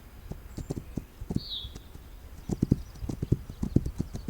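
Horse hooves clip-clopping at a gallop in the video game This Land Is My Land, a fast steady drumming of hoofbeats with a brief whinny, moderately quiet and without talk.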